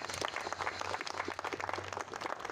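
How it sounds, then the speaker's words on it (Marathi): Applause from an audience at a Marathi talk about Raje Umaji Naik, a steady dense patter of clapping over a low hum, moderately loud and sustained throughout with no talk. "मित्रांनो, यासाठी आपण टाळ्यांचा एकदा कडकडाट करूया"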